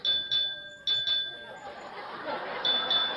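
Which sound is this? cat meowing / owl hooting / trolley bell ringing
trolley bell ringing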